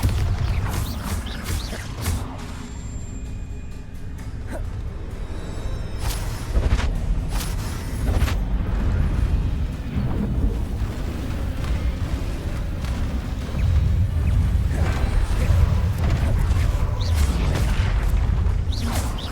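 Bombarda and Confringo spell explosions from Hogwarts Legacy, a string of heavy booms and bursts rolling one after another, loud and close amid continuous combat noise.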